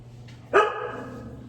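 One loud, close bark from Sky, a nearly two-year-old husky, with a bright harmonic tone that trails off over a second, heard over a steady low household hum in a kitchen.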